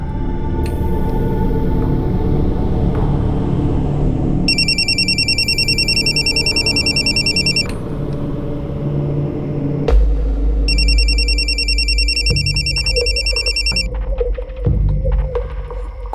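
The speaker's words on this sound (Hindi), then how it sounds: "फोन क्यों नहीं उठा रही?" A telephone rings unanswered in two long bursts separated by a pause, its bright electronic tone steady and clear over a low rumbling background.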